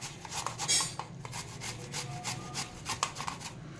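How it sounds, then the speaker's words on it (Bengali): Giant taro rubbed against a small hand grater in a Bengali kitchen, giving a steady run of close, rhythmic rasping strokes with scraping bursts and no talking. "এখানে একটা ছোট্ট গ্রেটার নিয়েছি, এটাকে এই কচুটাকে আমি এর মধ্যে দিয়ে সুন্দর করে এইভাবে গ্রেট করে নেব।"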